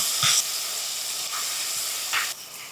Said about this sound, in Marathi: आता यामध्ये टोमॅटो मिसळूयात आणि टोमॅटो 2-3 मिनिटं परतून घ्यायचे